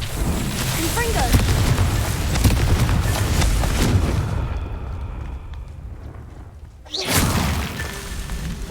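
A Confringo blasting spell in the wizarding video game Hogwarts Legacy sets off a loud, rumbling explosion and crashing debris that fade out, then a second sharp blast follows, with a voice speaking in the game.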